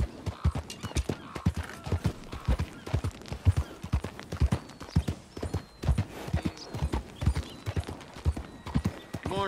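Horse hooves clip-clop in a video game, a steady rhythmic series of close, crisp hoofbeats continuing for several seconds with faint ambient background.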